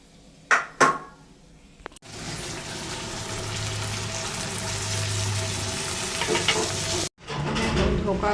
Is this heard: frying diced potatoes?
yes